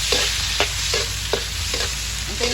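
Ginger sautés in a pan for chicken tinola, giving a constant bright sizzle with repeated scraping strokes of a spatula stirring every half second or so; no one speaks.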